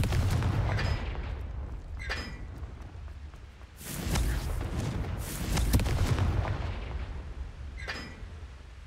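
Confringo blasting spell cast in the Hogwarts Legacy video game, heavy booming blasts and crackling bursts rolling over a continuous low rumble, with a sharp crack early on and a larger eruption of explosions in the middle.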